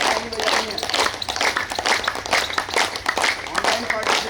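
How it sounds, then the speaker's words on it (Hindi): A group at a yoga workshop claps together in a steady, continuous rhythm, sharp dense hand claps filling the whole stretch at close range, with an instructor's voice speaking over the clapping. "फुल 1 मिनट ताली बजानी है।"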